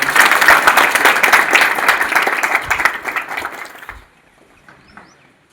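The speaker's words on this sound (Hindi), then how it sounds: "एक बार ताली बजा दें।" Audience applause at a school prize-giving ceremony for the cow science exam winners, a dense crowd clapping steadily for about four seconds before it abruptly dies away into near silence.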